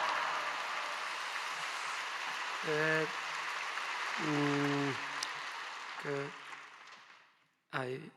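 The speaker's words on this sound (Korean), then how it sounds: "큰 박수로 목사님 맞이하시겠습니다" A congregation at a Friday Holy Spirit service at Yoido Full Gospel Church claps to welcome the pastor, a steady, soft wash of applause under a voice that fades out near the end.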